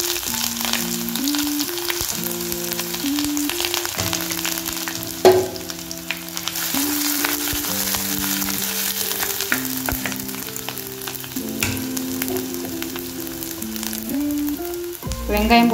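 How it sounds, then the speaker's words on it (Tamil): Mustard seeds and ginger frying and crackling in hot oil for a Tamil mushroom gravy, a steady loud sizzle with popping throughout and a few sharp spatters and stirring clatters near the end. "இப்போ கடுகு பொரிஞ்சிச்சு, இஞ்சி போட்டு போட்டுக்கலாம்."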